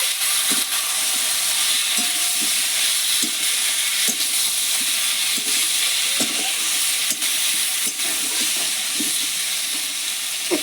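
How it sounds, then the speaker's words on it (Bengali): Potatoes frying with cumin powder and a little chili powder, a steady loud sizzle filling the whole stretch, broken by intermittent scraping clicks of stirring in the pan; no one speaks. "জিরের গুঁড়ো আর হালকা একটু লঙ্কার গুঁড়ো দিয়ে আমি আলুর সঙ্গে মশলা কষিয়ে নেব।"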